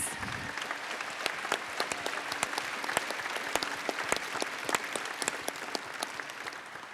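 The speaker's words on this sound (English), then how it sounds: "I think she deserves a round of applause" An audience at a Farm Aid 2017 press event breaks into steady, dense applause that holds at an even level throughout, with crisp individual claps standing out within the wash of clapping.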